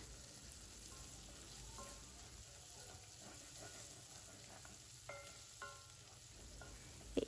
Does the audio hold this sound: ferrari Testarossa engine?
no